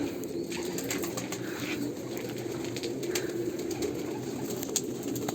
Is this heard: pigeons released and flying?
yes